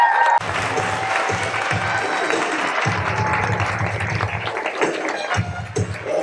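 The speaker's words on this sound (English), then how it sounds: "Please give a warm round of applause to Malcolm-Jamal Warner." Warm applause from a live evening audience greeting Malcolm-Jamal Warner as he is introduced on stage, a dense steady wash of clapping with low rumbling surges that swell and fade several times.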